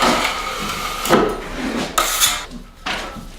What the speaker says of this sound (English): I take my 14-inch bevel trowel and I just run it along the seam